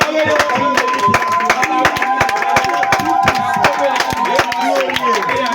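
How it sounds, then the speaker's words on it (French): A church congregation celebrates a child's birthday with rapid, loud clapping and cheering, sharp claps layered over crowd voices and a sustained tone, continuing steadily throughout. "Reçois des acclamations"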